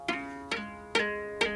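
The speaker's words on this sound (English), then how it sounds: "playing a melody in the lower part of the harp using a tuning fork" Four low harp notes struck with a tuning fork ring out in an even rhythm, each with a bright metallic attack and buzzing sustain.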